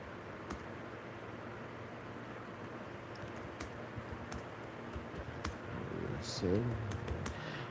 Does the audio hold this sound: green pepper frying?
no